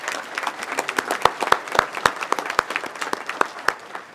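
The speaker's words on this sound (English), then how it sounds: "please join me in a round of applause for the woman who made this possible for the Mahoning Valley" Audience applauding at the 2018 ATHENA Award ceremony of a Mahoning Valley regional chamber, a steady room-filling patter of many hands with sharp individual claps standing out throughout.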